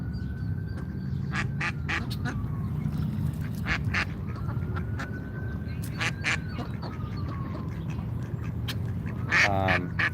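Land ducks quack in repeated clusters of short calls, some near and some farther off, over a constant low outdoor rumble in Washington DC, with a brief faint voice near the end.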